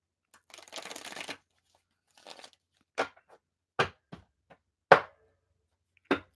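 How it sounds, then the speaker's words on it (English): Tarot cards being shuffled in a riffle burst, followed by several sharp single snaps and taps of cards spaced about a second apart, close and quiet. "let me shuffle for you"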